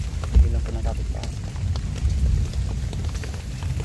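Rain falls steadily outdoors, a continuous patter of drops on surfaces with a few heavier thumps, while people talk nearby over it.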